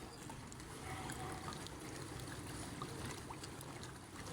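Water rushes and pours steadily through a broken dike, a continuous broad gushing flow with no voices.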